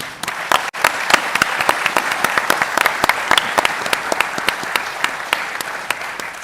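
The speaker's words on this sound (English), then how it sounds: "Please give them a round of applause." Audience applause at an African economic forum, a steady roomful of hands clapping continuously for about six seconds with a brief dip near the start, fairly close and even.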